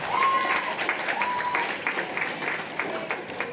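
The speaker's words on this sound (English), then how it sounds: "Give them another round of applause," Audience applause at a school French spelling bee, expo and fashion show, a steady wash of clapping from many hands under a few faint whoops and voices, sustained throughout.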